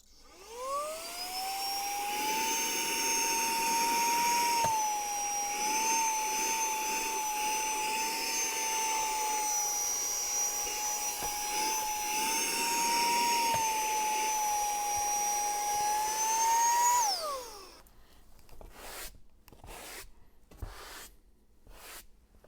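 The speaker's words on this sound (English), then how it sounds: "you can use the little vacuum like this." A small handheld vacuum cleaner in a Fisker Ocean car whirs up to a steady high-pitched whine, runs for about fifteen seconds with slight pitch wobbles, then winds down, followed by brief bumps.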